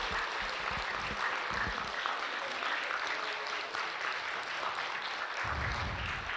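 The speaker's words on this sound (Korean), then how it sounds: "우리 청년들 힘내라고 한번 박수 한번 이렇게 보내주세요" A church congregation at a youth devotion worship service applauds the young people in a steady, dense wash of clapping that carries through the whole stretch at moderate volume.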